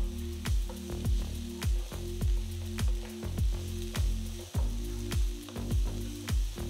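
Garlic cloves, chopped ginger and four green chillies frying in a pan, a steady soft sizzle with rhythmic scraping and stirring strokes recurring about every half second.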